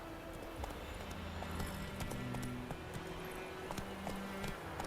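Roach, the horse in The Witcher 3 game, gallops in steady clip-clop hoofbeats, close and continuous throughout, with a faint low musical bed underneath and no talk.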